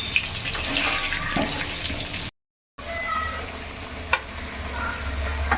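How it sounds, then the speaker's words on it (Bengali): Oil sizzles and crackles steadily in a pan as potatoes fry until browned, with a brief gap and a light clink of stirring. "আলুটা বেশ লাল লাল করে ভাজা হয়ে গেছে"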